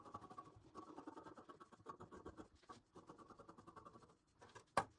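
Fabric being cut for the top of a shirred, three-layered dress, giving steady scratchy snipping and rustling with an uneven rhythm, fairly quiet and close, and a sharp click near the end.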